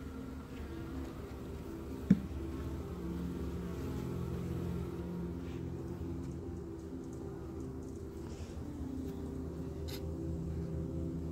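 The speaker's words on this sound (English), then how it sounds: "These are big bees" Dense, steady buzzing of many honey bees close by at an opened hive, a continuous drone with one sharp tap early on.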